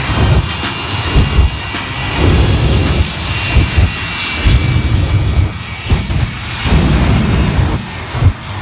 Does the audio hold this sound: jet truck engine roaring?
yes